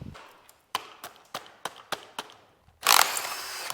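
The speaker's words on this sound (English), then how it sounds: "Yeah, hammer and a chisel. I'll knock some of this plastic off." A hammer and chisel knock plastic off a Ford Focus RS engine during teardown: a run of sharp, evenly spaced metallic taps, then a louder, harsher burst of scraping and cracking at the end.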